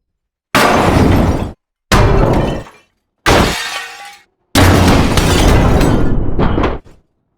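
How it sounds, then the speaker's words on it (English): Metal creak and stressed glass samples are triggered by touching a microphone through the Reformer Pro plugin, heard as four loud, dense crashing bursts separated by sudden silences. "you could hear the evolving sound of the metal creaks and the stress glass because of the merge I've got there"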